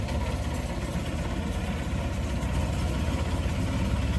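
A speed boat engine idles at a floating market in Bangkok with a steady, low, droning rumble, constant and fairly loud throughout, with no voices.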